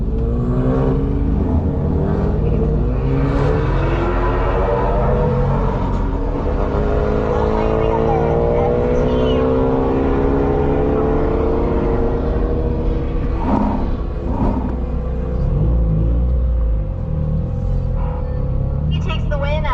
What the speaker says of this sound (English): So we're doing the roll racing here now, not the traditional drag.